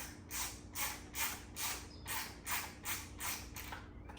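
A Baja Designs headlight mount being tightened on a Staycyc 16 bike, heard as a steady series of about nine rhythmic ratcheting clicks, close and fairly quiet, with no talking.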